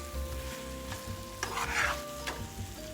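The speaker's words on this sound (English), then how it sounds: "I'm not gonna stir too much because we don't want to mess up our meatballs" Spoon stirring a sizzling taco-seasoned meatball and pasta casserole sauce in a pan, a steady close bubbling fry with soft scraping strokes, no voices.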